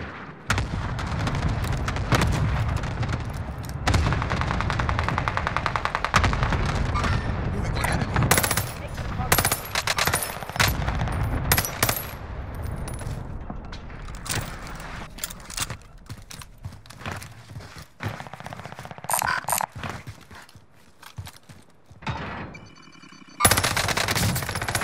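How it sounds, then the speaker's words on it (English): Cluster airstrike detonating in a military shooter video game, heard as heavy, rolling booms layered with rapid bursts of machine-gun fire over a sustained loud stretch, thinning out toward the end. "Mark target for airstrike."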